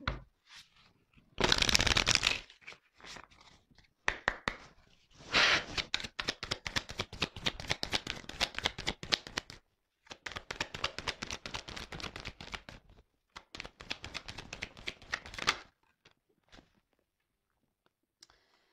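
Playing cards being drawn and shuffled by hand during a French-language reading, heard as several bursts of rapid riffling and snapping flutter separated by short pauses, close and alone with no talk.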